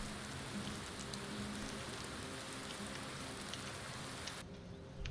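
Soft, steady video game rainfall patters continuously on a surface, a quiet even hiss with scattered droplet ticks and no voices.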